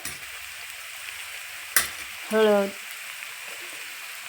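Tomatoes fry with red chili powder in a pan for a spicy rajma curry, giving a steady low sizzle throughout, with a brief spoken word and a short tonal sound partway through.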